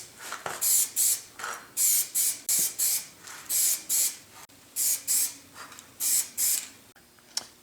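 Homemade rust removal solution sprayed from a trigger bottle onto the parts of a Reeves drive on a Yates American B244, about fifteen short bursts of hissing spray in a quick irregular rhythm, close and loud.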